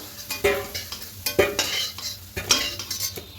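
A utensil scrapes and clinks in a pan as fried potatoes are stirred and lifted from the oil, with several irregular close strokes over a soft frying sizzle.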